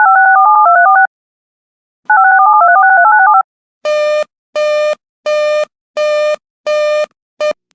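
An Emergency Alert System attention signal on a radio broadcast: two loud bursts of a warbling two-pitch tone separated by a pause, then six short, buzzy, evenly spaced beeps, with no voice.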